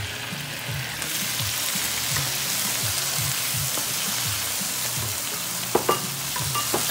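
Fresh diced garden tomatoes cook in a seafood paella pan with a steady, close sizzle throughout and repeated low scraping stirs, plus a few sharp clinks near the end.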